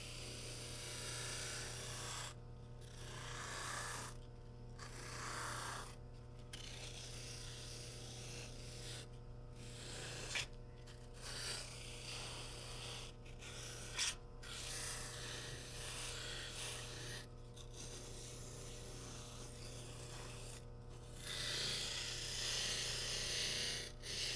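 Abrasive smoothing of the edges on a DIY hybrid holster, likely sanding or rubbing along the rim, gives a steady rasping texture broken by repeated short pauses, close and continuous over a low background hum.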